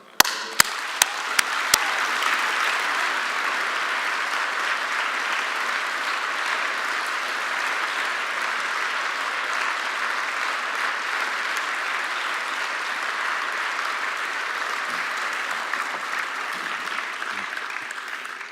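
An audience in a hall applauds Ralph Nader at a social justice lecture, a few sharp claps first, then dense, sustained clapping that holds evenly for a long stretch.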